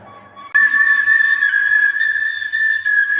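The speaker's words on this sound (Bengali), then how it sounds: "তার বাঁশের সুরে পিছে পিছে ছুটে যায় হাজার হাজার হাঁস" A bamboo flute is played by a duck herder on a Bangladeshi duck farm to lead the flock. After a half-second pause, one steady, clear, sustained high note rings out loud and close, alone without any talk.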